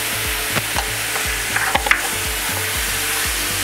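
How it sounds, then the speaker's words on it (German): Tomato paste and spice mix frying in a pan, a loud close sizzle with regular scraping stirs and a few clinks of the utensil, with no voices. "Auch das Tomatenmark ein bisschen mit anbraten"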